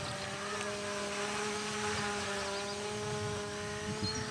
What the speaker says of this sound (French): quand le moteur accélère, je peux lâcher.